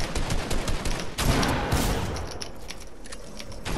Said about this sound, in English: Someone just shot a whole RPG